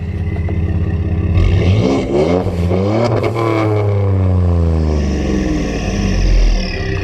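A lifted 2013 Ford F-150 FX4 pickup's engine revs hard, climbing sharply, dipping, then swelling again in a loud, close, rough growl.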